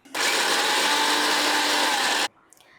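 A mixer grinder whirs loudly and evenly for about two seconds, blending spinach with coriander, ginger and green chillies into a paste, then cuts off abruptly.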